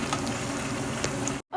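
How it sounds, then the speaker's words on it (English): Jaggery syrup boils hard in a pan, giving a steady loud bubbling sizzle that stops abruptly near the end, with no voices. "Okay, now our jaggery is ready. It's boiling a lot."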